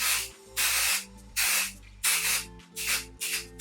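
Several bursts of hissing fabric adhesive spray from an aerosol can, each lasting about half a second, close and loud, with brief pauses between them.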